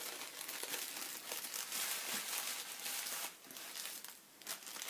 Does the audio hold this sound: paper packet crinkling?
yes